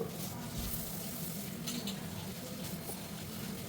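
Plain garelu batter, salted only, fries in hot oil over a medium flame, giving a steady, dense sizzle with faint bubbling crackle and occasional soft clinks of a utensil, close and continuous without talk.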